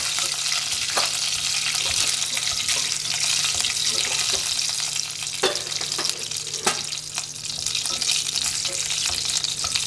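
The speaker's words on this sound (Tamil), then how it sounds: "வெந்தயம் போட்டிருக்கேன், உளுத்தம்பருப்பு, வெந்தயம்." Fenugreek seeds and urad dal frying in hot oil as a tempering for sambar, with a steady, close, crackling sizzle that carries on throughout and small pops and clinks mixed in.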